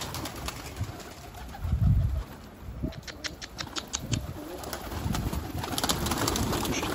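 A pigeon takes off from a rooftop loft with a burst of flapping wings amid faint cooing, while background noise and occasional distant clicks continue throughout.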